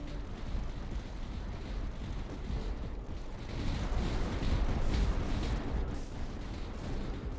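Mortar fire rumbles continuously in the Tower Dominion strategy game, a dense low barrage of thuds and blasts that swells midway, with no talking.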